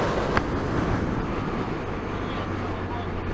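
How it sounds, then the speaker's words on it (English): Strong wind buffets the microphone on a windy Scottish Highlands road during the NC500 tour, a loud, steady low roar and rumble filling the whole stretch, with a voice partly underneath. "I don't know if you can hear the wind noise"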